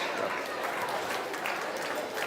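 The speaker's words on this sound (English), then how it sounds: "Give all those kids a nice big round of applause." Sustained applause from the audience at a market swine quality judging at the North Idaho State Fair: a steady, dense wash of many hands clapping that lasts the whole stretch without a break.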